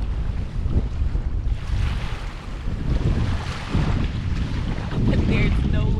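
Lake waves washing onto the beach at D.L. Bliss State Park on Lake Tahoe, a steady close wash of surf with gusts of wind buffeting the microphone and no talk.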